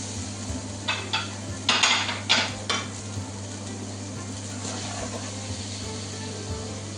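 Onions tipped into hot butter with bay leaf, cardamom and cumin in a pot for beef biryani: a few sharp clatters and scraping stirs, then a soft steady sizzle under a constant low hum.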